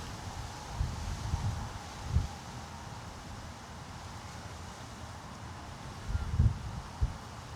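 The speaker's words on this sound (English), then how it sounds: "Look the wind." Wind buffets a microphone outdoors near water, producing a low, continuous rumble. Several louder gusts thump through, with no clear speech.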